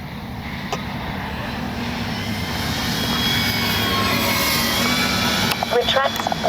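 The electric motor of a Dynam F6F Hellcat RC plane whines steadily during takeoff and grows louder as it climbs. Someone talks over it near the end.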